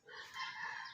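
A young rooster, a thin baby stag, gives a brief, faint clucking call, a single short burst.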